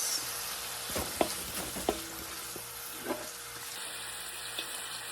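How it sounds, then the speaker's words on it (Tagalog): Garlic and onion sauté in a hot pan for pansit, giving a steady close sizzle broken by a few sharp clinks and scrapes of stirring. No voices. "And then maggisa tayo ng bawang and sibuyas."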